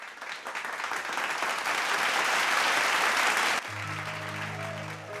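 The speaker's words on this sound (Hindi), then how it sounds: "जोरदार ताली बजा के" A television studio audience at a Bhojpuri singing competition show claps loudly and steadily for several seconds, then the applause cuts off as music begins.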